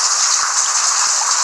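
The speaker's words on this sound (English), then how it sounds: "It's raining again." Steady rain falls in a dense, even hiss that stays loud and close throughout, with a few faint low taps and no voices.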